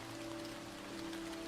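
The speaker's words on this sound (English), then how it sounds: "People do their own recordings of different kinds of rain" Steady recorded rain hisses on a surface, a continuous even wash of drops with no talk, fairly faint throughout.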